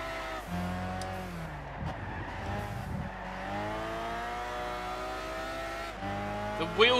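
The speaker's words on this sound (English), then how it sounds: "Wheel spin is ridiculous in this car." Simulated racing car in Gran Turismo 6 revving hard with wheel spin, a steady engine drone with rising and falling harmonics and bursts of rough tire noise around the middle, loud and close throughout.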